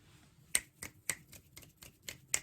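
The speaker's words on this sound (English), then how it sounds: "Why are you snapping your fingers?" A group snapping their fingers in appreciation after a poem reading, about nine crisp snaps in an irregular patter, close and clear against a quiet room.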